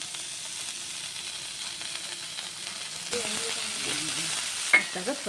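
Butter sizzling in a hot pan for a paneer gravy, a steady soft frying hiss that grows busier and louder partway through, with brief stirring clatter near the end and no one talking.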